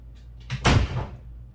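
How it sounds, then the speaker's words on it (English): A bedroom door swings shut nearby with a single soft thud in the middle, preceded by faint rustling and followed by a brief fading rattle. "Just close my door."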